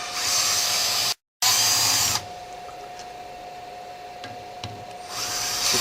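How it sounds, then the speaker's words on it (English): Power tool driving out the brush assembly bolts on a Motorola by Prestolite alternator with a 1/4-inch socket, a steady close whir that cuts out briefly, runs on, and fades to low hum before returning. "To remove those, you simply take the two bolts out in the brush assembly."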